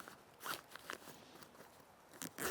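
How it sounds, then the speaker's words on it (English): The zipper of a mesh pocket on a Condor Outdoor Venture tactical backpack rasps open in several short, faint pulls close by. "zipper mesh pocket"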